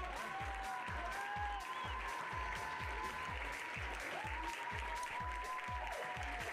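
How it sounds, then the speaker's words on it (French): Steady, dense applause from a large crowd at a pony-riding prize ceremony, continuous throughout with no pauses, over a rhythmic low thumping beat and a faint melodic tone in the background. "Vous pouvez les applaudir encore plus fort."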